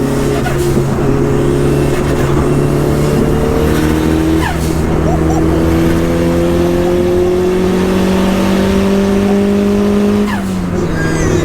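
A small stripped-out, lightweight hatchback engine roars steadily at high revs, accelerating hard with rising pitch and a brief gear change, loud and close throughout.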